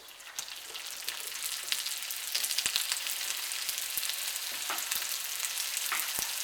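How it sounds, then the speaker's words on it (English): Beef sizzles and spits in hot olive oil in a wok, a steady close frying hiss with frequent sharp pops and crackles and no one speaking. "we're going to cook our meat quickly and put it back into another bowl"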